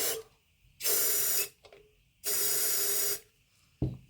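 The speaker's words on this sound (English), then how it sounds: "Spray some in there" Two long hissing bursts from an aerosol can of clear satin primer sprayed into a Christmas bauble blank, each under a second, with brief pauses between and a short knock at the end.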